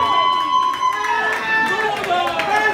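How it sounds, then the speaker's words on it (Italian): Audience at a live beach-venue concert by a trio applauding and cheering, a sustained crowd clatter with shouts and voices, mid-distance, lasting the whole span. "si merita un grande, grandissimo applauso"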